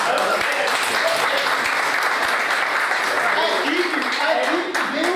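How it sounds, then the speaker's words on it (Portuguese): Loud, dense applause from an audience at a student team presentation, sustained throughout, with voices calling out beneath the clapping. "uma salva de palmas"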